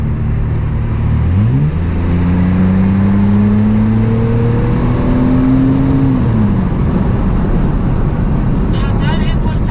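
A BMW 650i V8 engine revs hard. Its deep note climbs sharply, holds a loud, steady roar for several seconds, then drops back as the throttle eases.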